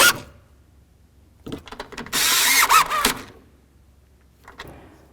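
Door handle bolts being snugged on a 1988-2002 GMC Sierra 1500 truck door, heard as short clicking ratchet strokes, then a dense rasping burst of tool work, then a few scattered clicks, close and loud with no talking.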